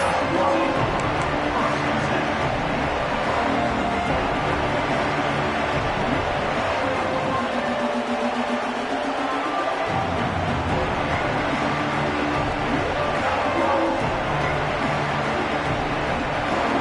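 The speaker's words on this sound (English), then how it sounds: "This crowd ready to make its presence known." Crowd noise from a packed college football stadium during the Iron Bowl, a steady roar of cheering that swells and holds for the whole stretch, loud and continuous.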